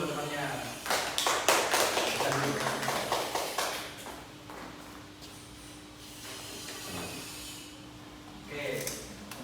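A classroom of students claps in a short burst of applause, dense and close at first, then thinning out and fading, with a steady hum beneath.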